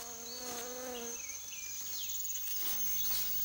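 A cricket chirps steadily in a mountain forest habitat in India, with a thin continuous high trill and insect buzzing that stay fairly close throughout, with no voices.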